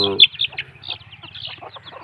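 Desi chickens cluck and chirp up close while eating, with several short, overlapping calls and a low continuous murmur of clucking underneath.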